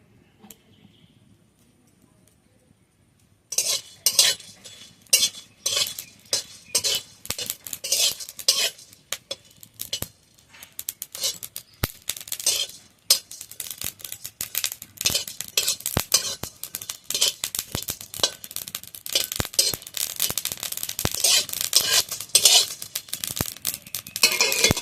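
Whole cumin and coriander seeds dry-roast in a pan while a spatula scrapes and clicks against the metal in rapid, busy strokes that run on steadily after a quiet start.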